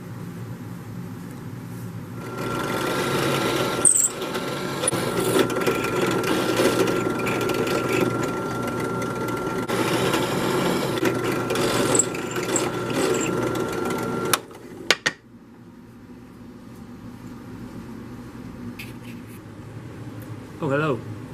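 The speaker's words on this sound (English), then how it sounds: "That'll keep my drill bit from wandering." Drill bit boring into a wooden octagonal nunchuck, a sustained whirring motor drone with a steady grinding tone that runs loud for several seconds, stops abruptly, and is followed by quieter background noise.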